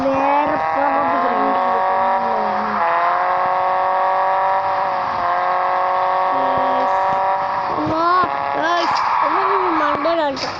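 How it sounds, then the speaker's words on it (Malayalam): Race car engine in a car simulator video game, a sustained high whining drone with shifting pitch and gear changes, loud and continuous throughout, with a voice talking over it. "കാർ റേസ് ആണ്."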